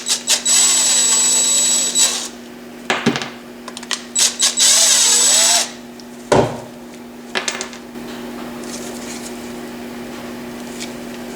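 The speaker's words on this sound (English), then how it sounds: "Let's get those two screws off." A power drill whirs in several bursts, starting and stopping as it backs screws out of the carburetor on an MTD Yard Machines push mower, loud and close with brief pauses and clanks between runs.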